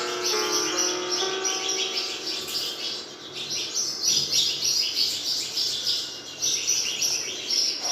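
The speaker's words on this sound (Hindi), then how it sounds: "अरे ये चिड़िया की आवाज कहाँ से आ रही है?" Birds chirp and tweet steadily in the Granny horror video game, a layered chorus of bright, repeated calls that carries on throughout with no talking.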